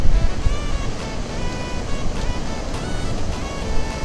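Sea waves wash in and break at Puri beach on a full-moon evening, a steady loud surf rush that swells toward the start and end, with wind buffeting the microphone and no talk.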